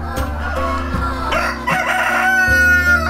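Young chickens on a farm, with a rooster crowing over a steady low hum and scattered clucks and rustling, fairly close and loud.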